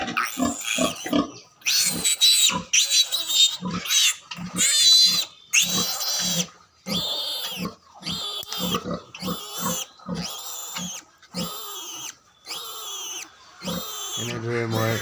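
Piglets on a pig farm squeal and shriek in sharp, loud, repeated bursts while their teeth are clipped, the cries rising and breaking off in an irregular rhythm with brief silences between them.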